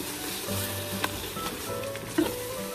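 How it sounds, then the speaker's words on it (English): Masala sautéing on medium-high in a multi-cooker for Punjabi chole, a steady low sizzle with a few soft clinks of a stirring spoon, no voices. "Just keep stirring your masala in between."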